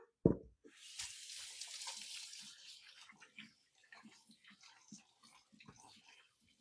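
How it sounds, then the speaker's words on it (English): Running tap water at a kitchen sink while hands are washed, a steady broadband splash lasting several seconds after a sharp knock, then thinning into scattered drips and light handling sounds. "Let me go wash my hands since we're messy now."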